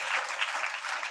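Loud, dense applause from a congregation giving thanks to God at a Christian gathering, a steady wash of many hands clapping together throughout.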